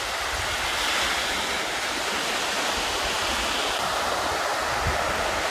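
Ocean swell washing steadily at Whitehaven Beach, a broad continuous surf roar with some wind noise across the microphone, no voices.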